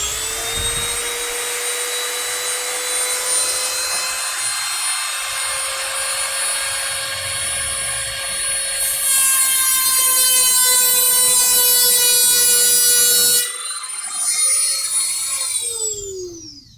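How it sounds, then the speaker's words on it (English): A Dremel rotary tool with a cutting disc cuts into a stripped screw head in a MacBook Air, a loud, steady high-pitched whine that rises in pitch partway through and then winds down at the end. "I'm getting the Dremel. Right, cutting disc"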